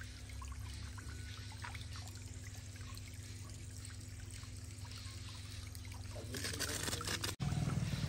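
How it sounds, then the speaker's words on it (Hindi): Tap water pours into a container at home in a steady, continuous stream with a constant low hum underneath, growing slightly louder and fuller near the end as the container fills. "पानी भर के रख देती हूँ"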